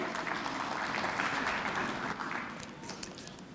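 Sustained applause from an audience at a school awards ceremony: a dense, even wash of many hands clapping, holding steady and then easing slightly toward the end.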